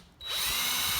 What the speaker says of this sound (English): Now we're drilling holes